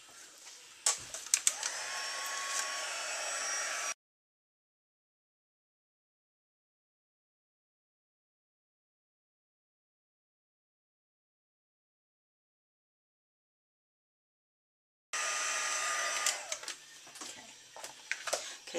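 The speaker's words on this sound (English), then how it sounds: "so now we're going to grab the heat tool," An embossing heat tool blows hot air over embossing powder with a steady, close rushing roar. The roar runs for a few seconds, then gives way to a long stretch of dead silence before the blowing returns near the end.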